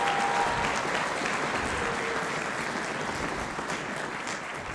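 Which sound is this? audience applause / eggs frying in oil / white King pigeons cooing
audience applause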